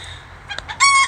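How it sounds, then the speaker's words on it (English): A miniature rooster named Rudy crows among hens, a short harsh call near and loud, preceded by a few softer clucks and bird noises. "He's a loudmouth rooster."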